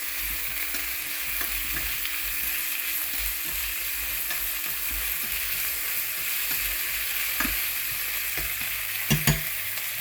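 Tofu and mushrooms frying in oil in a pan, a steady even sizzle throughout with faint stirring scrapes and a couple of sharp clicks near the end, no voices.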